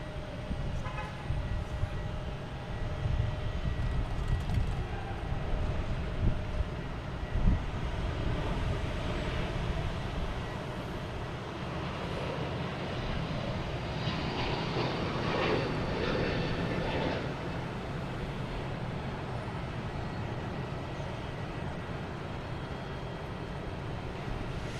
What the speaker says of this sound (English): We have Delta taking off to Las Vegas, an A321neo flight 373.